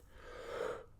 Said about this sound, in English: You just bust out a yawn real quick.